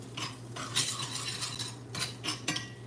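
An omelette stirred lightly in a cast iron pan: a few soft metallic scrapes and clinks of a utensil against the iron in irregular strokes, close and fairly quiet, with no talking.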